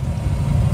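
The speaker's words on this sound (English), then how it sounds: "and so the engine is now running" A 2023 Coachman Freelander RV engine idles in a steady, continuous low rumble, close by and even in level, with no one talking over it.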